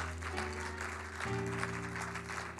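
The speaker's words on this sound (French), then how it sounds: "applaudis-le pour toi" Applause from a church congregation sounds faintly and far off under a sustained organ or keyboard chord that shifts pitch midway.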